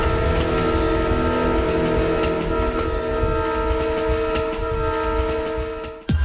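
Tough trains running on Vietnam's railway, a loud, steady rumble of cars rolling over the rails with sustained horn-like tonal drones throughout, ending abruptly.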